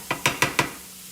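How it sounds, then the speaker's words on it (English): Ingredients stirred together in a pan for a grilled cheese: four quick, close scraping strokes in a steady rhythm, each a short bright rasp, with faint background hiss and no voices. "Mix it all together."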